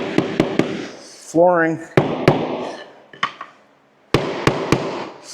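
A small tapping block is struck sharply in quick sets of three while engineered hardwood flooring is installed, giving crisp, close knocks with someone talking between the bursts.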